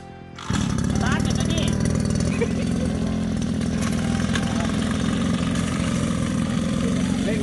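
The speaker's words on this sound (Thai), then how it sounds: "จะเป็นเครื่องยนต์สองจังหวะนะครับผม" A small two-stroke boat engine on a watering boat bursts into life and keeps running loudly, a raspy, steady buzzing drone that fills the whole clip.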